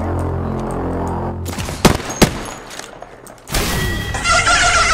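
Gunfire and explosive impacts in the shooter game Apex Legends: a few sharp loud shots and thuds over a droning game backdrop, with rising mechanical noise near the end.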